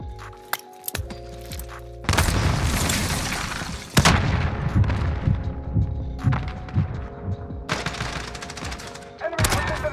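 A first-person shooter's airstrike unleashes a rapid string of heavy, booming explosions, loud and close, hitting repeatedly over several seconds in a Search and Destroy match.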